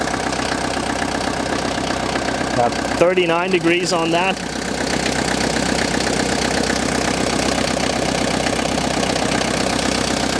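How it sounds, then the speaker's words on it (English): A Mercedes T2 van engine idles steadily throughout with a low, even rumble, while someone speaks briefly over it partway through. "It's only been idling here for like 5 minutes."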